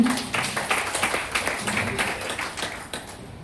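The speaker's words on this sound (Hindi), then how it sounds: "एक बार डिएक्शन के लिए ताली होना चाहिए।" Audience at an indoor business meeting applauding, a fast, even patter of many hands that fades slightly toward the end, moderately loud and reverberant.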